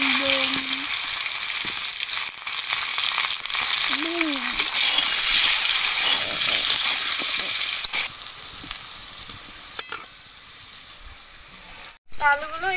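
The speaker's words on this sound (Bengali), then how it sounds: "তো একই তেলের মধ্যে আমি আলুগুলো লাল লাল করে ভেজে নেব।" Potatoes frying in the same oil left from frying eggs, a strong steady hiss of sizzling oil with occasional stirring scrapes and clinks, close, easing off toward the end with a brief gap.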